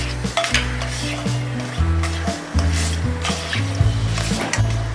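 Cloves, cardamom, cinnamon and mace frying in hot oil give a loud continuous sizzle, with spoon scrapes and pan clinks, while steady low tones run underneath and no one speaks.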